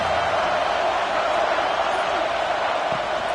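Constant stadium crowd roar in EA College Football 26 during Texas A&M at Arkansas, a dense, even wall of noise with no breaks and a faint low thump near the end.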